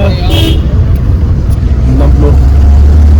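A car engine droning steadily during a long road journey from Gilgit to Islamabad via Babusar Pass, a loud, close low rumble with road noise and brief voices inside the vehicle.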